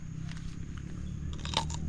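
Crunchy fresh raw bitter gourd or cucumber bitten at an outdoor camp: a few faint crisp crunches, then one sharper snap near the end, over steady low background noise.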